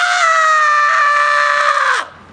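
A singer's voice imitates a horror-film scream queen's shriek: a single loud, sustained high scream lasting about two seconds, holding steady before sliding down and cutting off abruptly.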